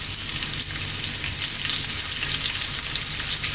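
Onions frying hard in hot sunflower oil in a wok over maximum heat, a steady dense sizzle that holds evenly throughout with no voices.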